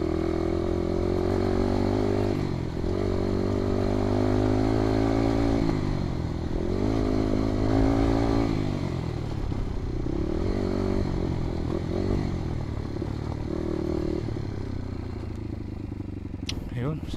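A motorcycle engine idling and revving repeatedly to draw fuel into the carburetor, a steady close rumble that swells and dips with each twist of the throttle while someone talks over it.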